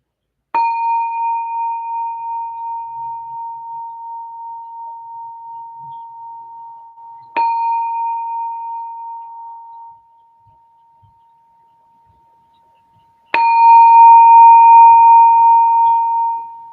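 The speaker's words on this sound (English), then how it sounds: "And I'm going to ring the bell 3 times." A meditation bell struck three times, each strike a clear ringing tone that rings out and slowly fades, the third sounding loudest, with near silence between strikes.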